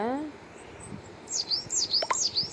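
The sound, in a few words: sparrows chirping in a video game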